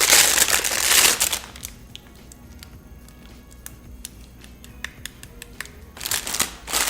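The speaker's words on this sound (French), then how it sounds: "quand je craque le sac, les choses, ils fonctionnent" A plastic bag holding sound-activated LED bracelets is crinkled and crushed up close, with loud crackling bursts at the start and end and sparser crinkles and taps between them.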